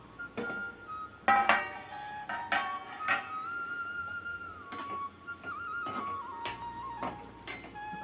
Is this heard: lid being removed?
yes